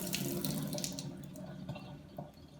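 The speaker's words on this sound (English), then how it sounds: "So with this lid, you just have to fill it with water, swish it a bit, dump it," Water runs and splashes steadily while lentils are rinsed in a jar fitted with a canning lid: filled, swished and dumped, close and continuous with no talk.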